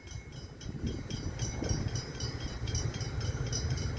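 An Australian steam train passes close by at Dandenong, a loud continuous rumble and rattle of wheels and carriages with a steady rhythmic clatter.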